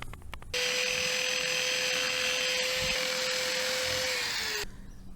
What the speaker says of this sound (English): Now I'm gonna clean the inside of these up with a wire brush and put the new bushings in.